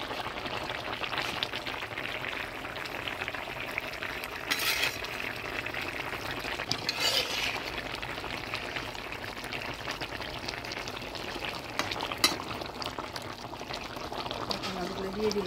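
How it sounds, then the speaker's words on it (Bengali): Fried bata fish dropped into a simmering Bengali village fish curry with bottle gourd shoots, a soft bubbling and splashing pour under a steady hiss, close and fairly quiet, with a voice speaking at times. "এবার ভেজে রাখা বাটা মাছগুলো দিয়ে দেব"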